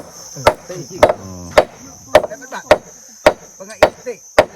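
Hammer blows on wooden planks while building a bridge deck, eight or nine sharp, evenly spaced close thwacks with faint ringing between strikes and insects chirping in the background.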